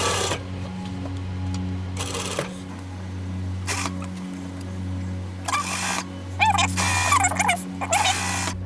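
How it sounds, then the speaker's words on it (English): A sewing machine top stitches along the edge of reversible apron fabric in several short bursts of fast mechanical whirring, separated by pauses with a steady low hum underneath. "then just 1/4 inch from the edge, top stitch"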